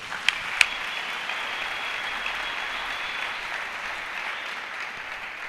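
A church congregation claps and applauds, a dense, even patter of hands that carries on throughout at moderate level, with two sharp louder claps near the start.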